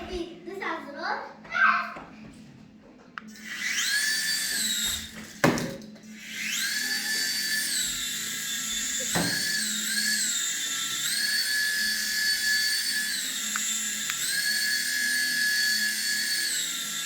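A remote control toy helicopter on a table spins up its small electric rotor into a steady, high whine that runs for many seconds, while children chatter nearby and a few thumps sound.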